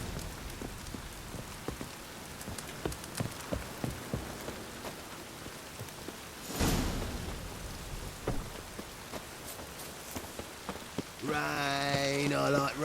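Steady rain pattering on surfaces in The Witcher 3 video game, a continuous soft wash with scattered drop ticks, a brief louder gust of noise midway and a tonal game cue rising near the end.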